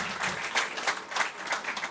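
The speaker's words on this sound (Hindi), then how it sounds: "मैं उम्मीद करता हूं कि आप दोस्त तालियों से अपना इस्तकबाल करेंगे।" An audience at a mushaira poetry gathering in Kuwait breaks into applause, a dense, steady clatter of many hands filling the hall throughout, moderately loud and without voices.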